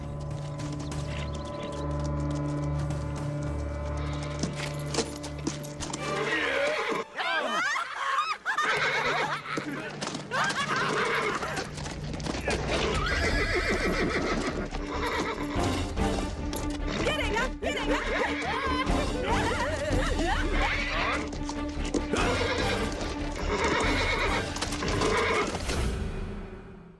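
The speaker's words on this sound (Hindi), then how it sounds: "अरे ये घोड़ा पागल है क्या?" A horse neighs and whinnies loudly amid galloping, crashing commotion in an Indian action film scene, with shouting voices mixed throughout.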